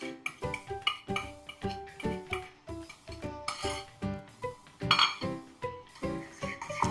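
Mayonnaise and chili sauce stirred in a bowl with a spoon, heard as a close, rhythmic series of clinks and scrapes against the bowl, loud and repeating at a steady pace.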